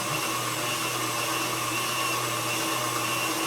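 An electric mixer or blender whirs steadily at close range while dry ingredients for a chocolate raspberry buttermilk pound cake are combined, a constant motor drone throughout with no talking.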